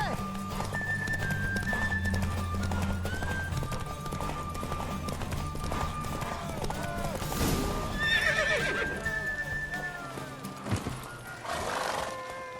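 Horse hooves clip-clop in a steady galloping run while a horse neighs and whinnies during a race in the video game The Witcher 3: Wild Hunt, with game music and voices underneath throughout.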